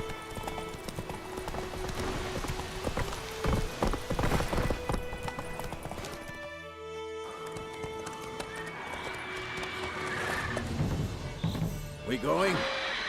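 Horse hooves clip-clopping in The Witcher 3, a steady trotting rhythm amid game ambience and effects, with a brief quieter gap, a horse neigh near the end and voices talking over it.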